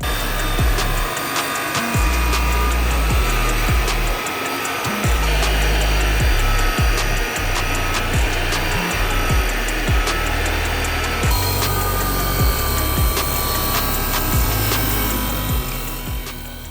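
A steady, loud power-sander whine with a dust-collection vacuum's roar runs throughout, broken by brief dips and bursts as wooden window-trim pieces are fed through to sand their edges.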